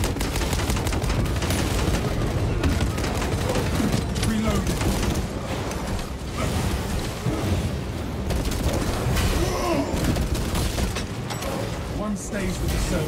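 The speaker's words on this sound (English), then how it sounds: "Releasing crack grenade." Dense battle din from Space Marine 2 on Ruthless difficulty against Chaos, with heavy bolt rifle bursts and krak grenade blasts merging into a loud, continuous barrage of rapid shots and booms throughout, with voices over it.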